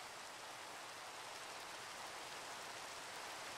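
Rain in the Minecraft mod TerraFirmaCraft makes a steady, even hiss of falling water with no break or change. It sounds soft and diffuse, and nothing else is heard.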